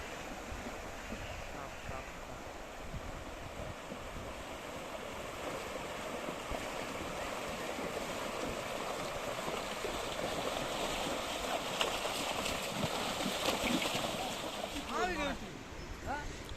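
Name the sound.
river flowing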